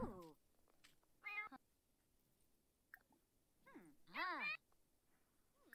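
A cat in the video game The Sims 4 meows several times in short, rising and falling calls, separated by quiet pauses. The calls are fairly soft, and the loudest one comes near the end.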